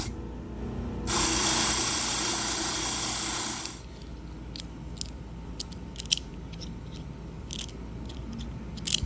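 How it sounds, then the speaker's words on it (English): A buffing wheel polishes a solid brass key, giving a loud, steady whirring grind for about three seconds before it stops. Faint clicks and handling taps follow. "give it a quick buff on the wheel"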